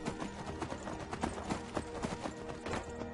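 Quick, rhythmic clip-clop of horse hooves at a steady trot in the video game Skyrim, fairly faint and close, with no talking.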